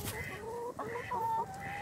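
Chickens clucking close by in a backyard chicken run, a few drawn-out squawks and throaty clucks following one another, with no talking.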